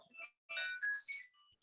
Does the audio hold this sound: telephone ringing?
yes